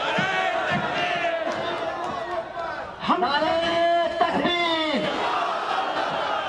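A large crowd at a religious address by a cleric chants Nara-e-Takbeer, Allahu Akbar, with voices swelling into a loud, sustained collective shout over continuous crowd noise.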